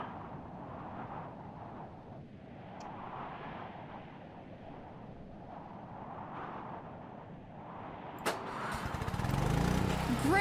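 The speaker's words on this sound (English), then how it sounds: "The engine's working." An engine in the video game Art of Murder, kept running by a clutch held engaged, sputters and catches near the end, rising abruptly into a loud, steady running roar after a long quiet stretch of ambience.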